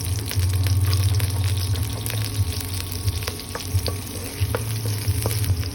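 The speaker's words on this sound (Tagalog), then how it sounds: "In this container, butter, and then we're gonna saute the garlic" Garlic sautés in butter, a close, crackling sizzle with sharp pops and stirring scrapes, steady over a low hum for a few seconds.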